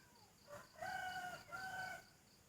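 A rooster crows nearby beside a chili garden plot, in two drawn-out rising calls, with faint clucking from other chickens and a low background hum.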